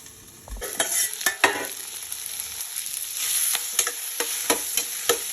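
Brinjal chutney with curry leaves fries in a pan, a steady close sizzle broken by repeated sharp clinks and scrapes of a spoon stirring, with no voices.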